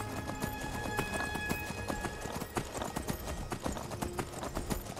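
A horse gallops in the Skyrim VR video game, its hooves making rapid, rhythmic clip-clop beats that repeat steadily at moderate, fairly quiet volume throughout.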